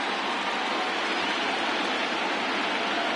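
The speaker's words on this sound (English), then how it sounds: "I don't know how much more rain this field can take" Steady rain pours down on a baseball field in the MLB The Show video game, a dense, even wash of hissing noise with no breaks or voices.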